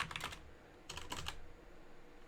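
Quiet, close typing on a computer keyboard comes in two short flurries of rapid clicks separated by a brief lull, with no voices.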